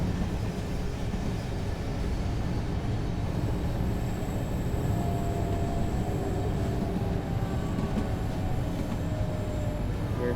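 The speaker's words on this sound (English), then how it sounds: "We're actually racing the freight train into Dresden" A freight train rolling into Dresden in the Train Sim World 4 railway simulator, a continuous heavy rumble of wheels and rail noise with faint high squeals, steady and close throughout.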